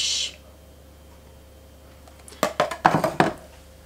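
Pork and vegetables being mixed in a pan for a sweet and sour dish, a quick run of sharp utensil scrapes and clacks close up after a quiet stretch, with no voices.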